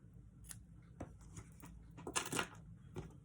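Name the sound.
scissors snipping paper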